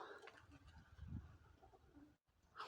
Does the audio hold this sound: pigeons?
yes